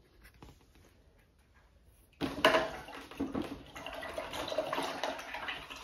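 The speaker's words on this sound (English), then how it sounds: "you can hear me just rinsing my brush out" A paintbrush is swished and rinsed in a water container while painting with acrylics, starting with a few faint taps, then a steady splashing, clinking wash close by that continues to the end.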